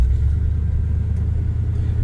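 A 1978 Chevy C10 pickup's engine rumbles steadily from inside the cab while driving, a deep continuous low drone with no voices.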